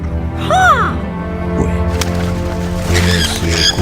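A crow gives a loud, close caw as a sound effect, a single harsh call near the start, with a voice speaking over the rest.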